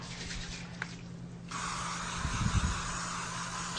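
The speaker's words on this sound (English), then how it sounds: "So let's spray our foreman grill." A short burst of cooking spray onto a Foreman grill hisses steadily for a couple of seconds, with a faint rattle and quiet background hum.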